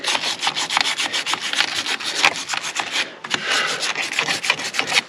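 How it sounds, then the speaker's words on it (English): Wire brush scrubbing rust out of the wheel hub threads on a Mini Cooper during a winter tire swap, a loud, close, gritty scratching in rapid strokes with a brief pause near the middle. "I'm just taking some of the rust out of the hub threads"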